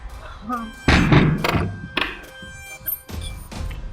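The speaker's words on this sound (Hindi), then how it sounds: "दरवाजा बंद करो।" A door is shut indoors in a Hindi crime drama scene, landing as a solid, close thunk near the start. Weaker knocks and thuds follow, and voices murmur around them.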